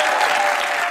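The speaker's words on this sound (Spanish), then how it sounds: "un aplauso" A television game-show studio audience bursts into a brief, loud, dense round of applause, unbroken for the full second.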